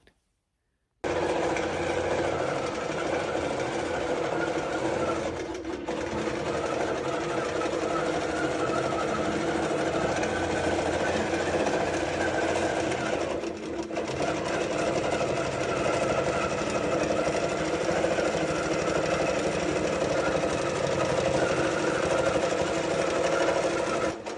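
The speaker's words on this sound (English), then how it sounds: "Pro tip of the day when you're quilting on your long arm, or even if you're push quilting free motion style on your domestic machine" A long arm quilting machine stitching a quilt, a steady fast mechanical whir and needle chatter running continuously and close, with two brief dips in the drone.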